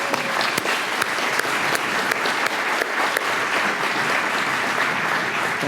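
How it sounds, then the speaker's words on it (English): Sustained applause from an audience at a university IT summit, steady and dense clapping throughout with a few sharper individual claps standing out, fairly close and loud with no talking. "please stand up and just take a round of applause"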